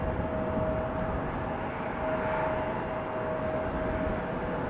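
A JetBlue Airbus A220 airliner at Raleigh-Durham International makes a steady, broad engine roar that holds at an even loudness throughout, with a faint sustained tone riding over the rumble.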